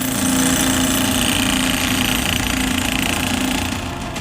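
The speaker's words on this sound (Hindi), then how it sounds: "मदरसा संचालकों ने अवैध निर्माण को धराशायी करने के लिए हैमर ड्रिल मशीन के साथ मजदूरों को बुलाया" Hammer drill breaking up an illegally built concrete madrasa structure during demolition by hired labourers, a loud continuous rattling pound with no pauses, dense and close throughout, easing slightly only at the very end.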